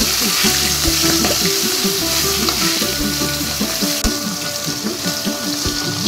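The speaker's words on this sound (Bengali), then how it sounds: "এরপরে আমি এই ইলিশ মাছের মাথাটা একটু ভেজে নেব।" A hilsa fish head fries in plenty of mustard oil in a wok, giving a steady loud sizzle with crackling spatters and clinking stirring throughout, no voices.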